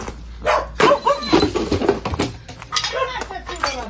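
Several dogs bark and yip close by, overlapping each other, while a person talks over the noise.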